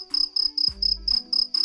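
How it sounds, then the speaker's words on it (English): Crickets chirping as a sound effect, loud and close, in regular rapid pulsing bursts with a low tone cutting in partway through. "all you hear is crickets"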